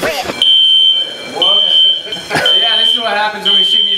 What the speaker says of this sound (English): I set off fire alarms.